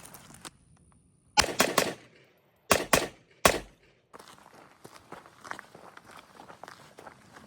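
A pistol fitted with a green dot sight fires several shots at a target, heard as loud, sharp reports in irregular pairs and singles over a few seconds. Between them and afterward come quieter shuffles and handling noises.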